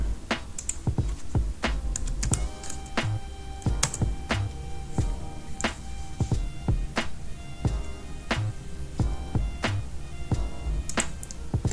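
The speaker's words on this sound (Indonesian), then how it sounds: "Kita coba ketikkan" Steady, rapid key clicks on a computer keyboard as commands are entered at a command line, with irregular bursts of sharp taps and the odd louder keystroke, close and clear with no voices.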